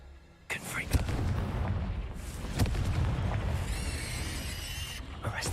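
In the Hogwarts Legacy video game, Confringo fire spells set off a string of loud, booming explosions, sharp blasts followed by rumbling fiery roars, with a voice briefly heard amid the game noise.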